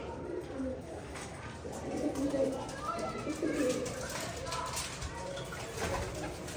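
Pigeons cooing softly in a breeder loft setup where birds sit on eggs and build nests, low throaty coos repeating through a steady background murmur, with some human voice present.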